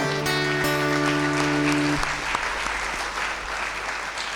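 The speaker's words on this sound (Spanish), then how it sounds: "Esos aplausos para el Señor" A church congregation applauds in praise after a sung refrain, a steady wash of clapping that follows the fading final held notes of singing or music, then thins slightly toward the end.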